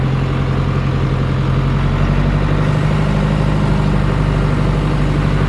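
A John Deere 2140 tractor engine runs steadily at a low, rumbling idle, close and constant throughout.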